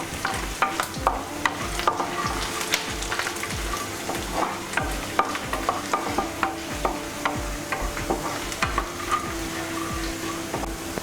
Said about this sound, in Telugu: సిమ్లో పెట్టుకుని మనం ఫ్రై చేసుకుందాం